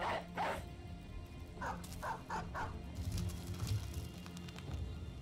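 Dire wolves bark in the Battle Brothers video game, several sharp yips and barks in quick bursts over a low rumbling game soundtrack, faint and fairly distant.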